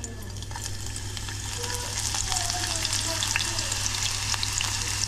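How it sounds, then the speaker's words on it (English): Garlic frying in heated oil, a dense continuous crackle and sizzle with sharp popping spits scattered through, close by and steady, growing slightly louder, with a low electrical hum beneath and no talking. "Alright, so I've heated up the oil. Here's the garlic. I'm just going to fry that for a bit."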